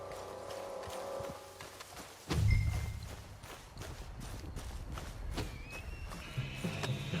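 A horse in Red Dead Redemption 2 whinnies and snorts, followed by hooves clopping and shuffling nearby, with a low ambient game soundtrack in the background.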